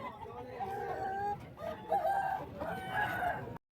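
A rooster crows among the fighting cocks at a busy poultry market in Vijayawada, a few moderately near calls over a steady crowd murmur and clucking, with other voices in the background.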